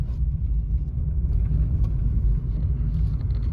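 Low steady road rumble and tire noise from inside a 2015 Nissan Leaf electric car with 110k miles pulling away, a continuous hum with no engine revving and no talk.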